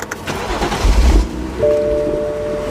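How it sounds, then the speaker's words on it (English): A BMW 3 or 4 Series (F30/F32) engine cranks and catches, a low rumble rising for a moment before settling into a steady idle with a faint whine. "let's just start the engine"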